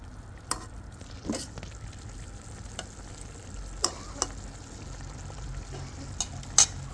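Kachki fish curry simmering in an open pan, a soft low bubbling hiss with scattered clicks and light taps of a utensil against the pan, fairly quiet and without talk.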